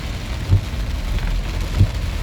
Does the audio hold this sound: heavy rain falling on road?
yes